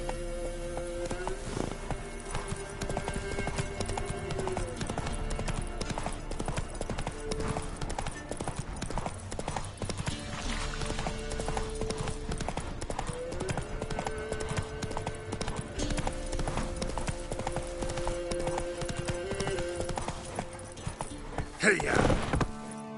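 Roach the horse galloping in The Witcher 3, a steady close clip-clop of hooves running continuously, with game music and a brief voice underneath.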